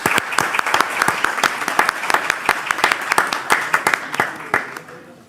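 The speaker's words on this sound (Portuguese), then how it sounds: "Uma salva de palmas aqui ao doutor Pablo e a todos os profissionais da área médica." Applause from a meeting audience for a doctor and medical professionals, a dense, steady patter of many hands clapping close by that carries on for several seconds before thinning out at the end.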